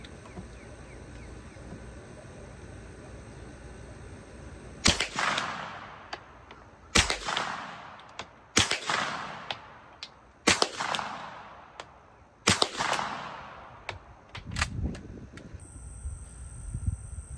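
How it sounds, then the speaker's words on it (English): A suppressed MAC5K firing a five-shot group at 25 yards: sharp, crisp reports spaced one to two seconds apart, each with a brief ringing tail, over a quiet outdoor background. "I'm gonna do 5 shots, suppressed,"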